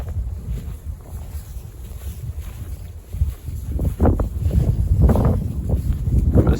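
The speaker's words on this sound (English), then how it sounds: "Let's see if I can go out of the wind" Winter wind blowing across an open pasture, rough buffeting gusts hitting the microphone that build stronger toward the end, with no voices.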